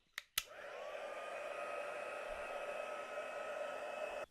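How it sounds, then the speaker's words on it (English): Heat gun blowing over wet watercolor paint on paper, a steady loud whooshing hum with a whining tone that starts after two quick clicks and runs unbroken to the end. "I'm going to dry that with the heat gun"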